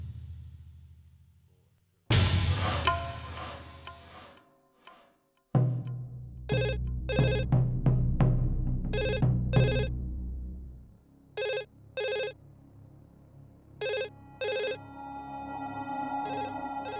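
A telephone rings indoors in a home, with repeated paired electronic trills in a regular rhythm after some louder noise and music at the start.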